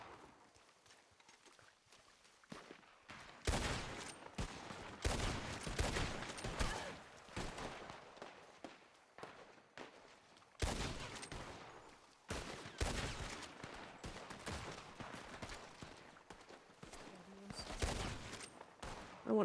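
Gunshots in a Red Dead Redemption 2 shootout, with separate cracking shots and short volleys coming at irregular intervals, some louder and close, over a quiet background with faint hoofbeats.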